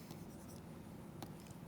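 Chalk or pen strokes on a board as an equation is written by hand during a lecture, making faint scratchy taps in short bursts over a quiet room hum, with no speech.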